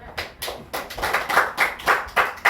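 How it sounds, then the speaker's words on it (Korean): Congregation in a Korean church service clapping together, a steady rhythmic beat of sharp hand claps close by with no talk over it. "노집사님 박수 한번 주세요"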